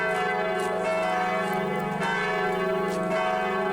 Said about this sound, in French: Les cloches sonnent à toute volée